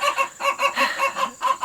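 Chickens and guinea fowl at a coop give a rapid run of rhythmic clucks and squawks, several calls in quick succession, close and fairly loud.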